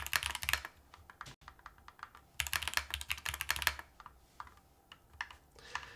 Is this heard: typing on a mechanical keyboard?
yes